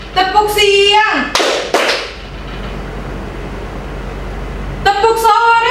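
A class of schoolchildren claps a quick rhythmic pattern, two or three sharp claps in a row, between chanted voices from teacher and pupils.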